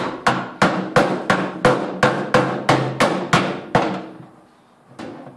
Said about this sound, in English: And then I'm just going to hammer it up a little bit.